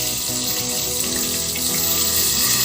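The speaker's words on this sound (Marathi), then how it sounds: "झाकणावर मी आता थोडे पाणी टाकते आहे" Water poured over a lid covering a kadhai of stuffed bitter gourd (bharli karli) cooking on low heat, a steady close splashing flow that runs continuously without pause and without any voices.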